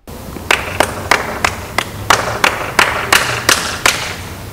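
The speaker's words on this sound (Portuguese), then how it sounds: "vamos aplaudi-los" About a dozen sharp, evenly spaced hand claps ring out at a school cinema workshop for students, loud and close, in a slow steady rhythm like a small group clapping in unison.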